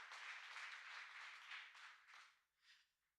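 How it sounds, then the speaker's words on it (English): Applause from an audience at a hackathon opening ceremony, a steady wash of clapping that thins out and fades over a few seconds. "Round of applause, please."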